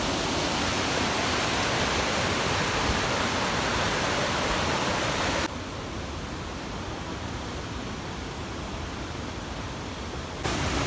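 Water pouring down Seetharkundu waterfall in Palakkad, a constant broadband rush that drops in level midway then swells back near the end, with no talk.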